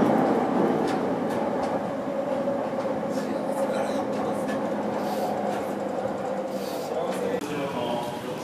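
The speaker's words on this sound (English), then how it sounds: "this is Shinjuku Station. This is the busiest train station in the world." Trains at Shinjuku Station in Tokyo, a busy railway hub, with a continuous loud rumble and rolling rail noise, metallic squeals and clatter over a dense crowd murmur.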